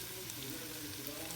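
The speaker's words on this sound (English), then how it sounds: "Oh, listen to that sizzle." Steady, close sizzling of food frying in a hot pan with balsamic glaze, a continuous crackling hiss with no voices.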